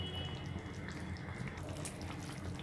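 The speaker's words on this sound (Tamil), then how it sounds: "நல்லா கொதிக்குது." Nethili (anchovy) fish curry bubbling steadily in a pot, a continuous soft simmering and popping texture close by with no talking.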